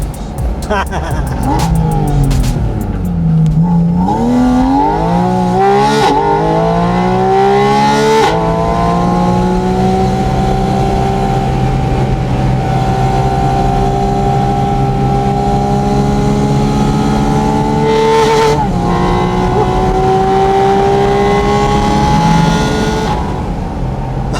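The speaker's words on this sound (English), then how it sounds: "we switch the exhaust system to sport mode." A Porsche 718 Spyder RS engine revs hard and shifts through gears, its exhaust in sport mode roaring and crackling loudly up and down in sustained, close bursts.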